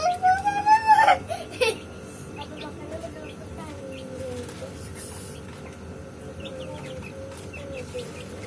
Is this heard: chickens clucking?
yes